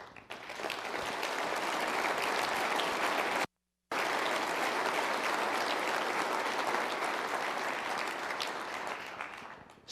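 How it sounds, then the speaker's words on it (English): Steady applause from an audience at a Department of Defense event, sustained and fairly loud for several seconds with a brief gap, then carrying on before tapering off. "Please stand up for a round of applause."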